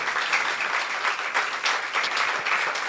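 A church congregation claps loudly and steadily in sustained applause, a dense wash of many hands filling the room with no voices standing out.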